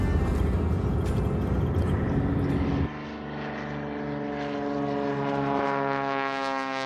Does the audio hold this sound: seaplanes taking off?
yes